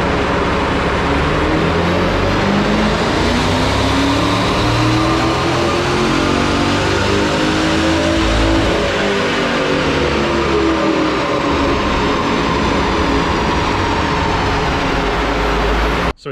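A turbocharged LS3 V8 car runs on a dyno with a steady, loud, continuous engine drone and tonal whine that slowly rises and falls in pitch across the run, then cuts off abruptly at the end.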